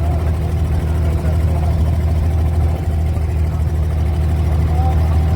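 An abra boat engine runs in Dubai, a loud, steady low drone with a constant hum that holds close and unbroken throughout.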